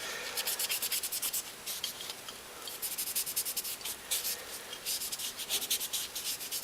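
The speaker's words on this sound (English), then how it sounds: "I'll use a brand new clean cloth and kind of go over it" A clean cloth wiping over a Glock pistol, giving close, soft rhythmic rubbing strokes that repeat steadily throughout, with no talking.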